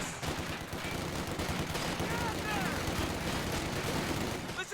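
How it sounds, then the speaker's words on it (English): Artillery barrage in a real-time strategy game, shells landing in a dense, continuous rattle of gunfire-like blasts with whistling streaks, loud and busy throughout under faint background voice. "he calls down artillery on his own position"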